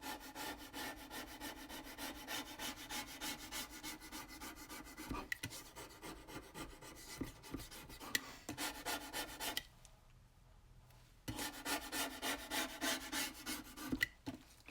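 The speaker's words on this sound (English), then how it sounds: "See if I can scrape off any more." Steady rasping scrape of a tool across dried egg tempera paint, continuous rubbing strokes close by, pausing briefly near the middle before resuming with the same gritty texture.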